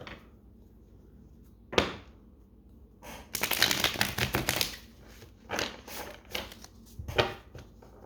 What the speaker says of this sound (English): We're going to clarify the Tarot of the Wild Unknown, which wants to be shuffled.